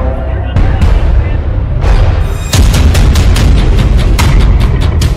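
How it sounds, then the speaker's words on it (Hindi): Bombs and missiles strike targets in Yemen, a series of loud close booms and crackling blasts layered over a constant heavy rumble, with repeated sharp bursts in quick succession. "वो 10-20 नहीं बल्कि दर्जनों बम और मिसाइलों से यमन को टारगेट किया है।"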